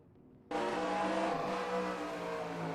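Onboard Ryan Johnson's race car at Martinsville, the engine snaps in loud and close after a brief quiet, then holds a steady roar with some tire noise.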